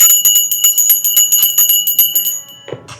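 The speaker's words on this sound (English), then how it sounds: "I'm going to ring the bell on that." A small bell is rung rapidly and repeatedly, about twenty bright metallic strikes in a quick steady rhythm, loud and close, followed by a brief soft knock at the end.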